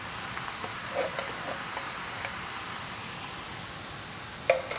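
Lentils, chickpeas and vegetables sizzle steadily in a saucepan as a spoon stirs them, a close hissing fry broken by a few light scrapes and taps.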